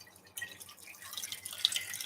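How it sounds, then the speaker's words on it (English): Tap water runs into a bowl being refilled to rinse berries, a soft, close splashing and dripping that picks up partway through and continues steadily, with no talking. "We refill with extra new water"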